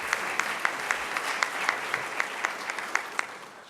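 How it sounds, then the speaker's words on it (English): A breakfast audience of mayors and business leaders gives a round of applause for a deputy secretary. The clapping is moderate and evenly sustained, with a few sharp, distinct claps standing out at a regular pace. "A round of applause for Deputy Secretary Anthony Miller"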